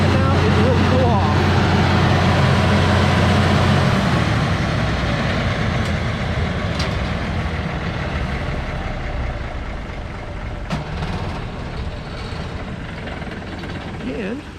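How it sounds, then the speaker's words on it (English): A generator powering the lights at the I-80 race track runs with a steady, loud, droning engine rumble that continues throughout, with a few faint clicks above it. "all that noise, that is the generator that runs the lights"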